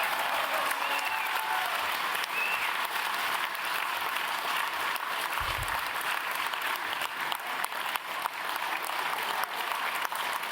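Steady, even applause fills a hall during closing remarks at a conference, a long unbroken spell of crowd clapping with no talk over it.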